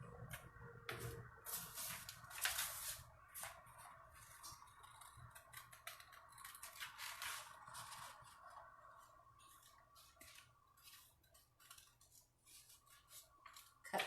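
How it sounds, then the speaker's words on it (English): Scissors cutting paper pieces for a kids' 3D wall art project: a close series of crisp snips and rustles, busy early on and thinning out later, quiet and without talking. "Cut more pieces out."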